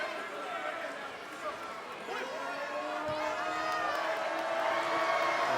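Home crowd at a men's college basketball game, GCU against Seattle U, with a steady, loud wash of cheering, chatter and whoops running throughout, voices talking over it.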